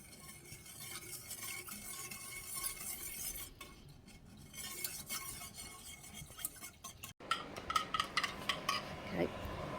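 Sugar mixture for a lemon marshmallow slice being stirred in a bowl, with steady scraping and clinking of a utensil against the dish throughout, growing choppier and more percussive toward the end.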